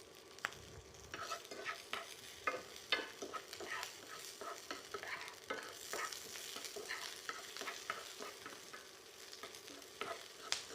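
Onion seasoned with salt frying in a pan, a soft, fairly quiet sizzle broken by frequent crackles and scraping stir strokes throughout, with no one talking.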